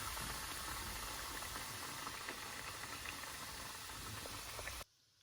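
Four chicken nuggets sizzling in oil in a small pan, a steady close hiss and crackle with fine popping that runs continuously and cuts off abruptly near the end.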